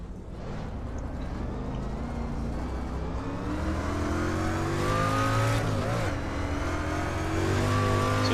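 A street stock race car laps Volusia Speedway Park in iRacing, its engine droning loudly and steadily with rising and falling pitch sweeps as it accelerates and lifts through the turns, close and continuous throughout.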